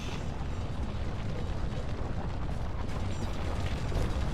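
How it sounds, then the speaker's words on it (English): A dense, continuous explosive roar fills a video game scene, broad and loud with rumbling low end, sustained without clear gaps for several seconds. "Why did I hear an explosion?"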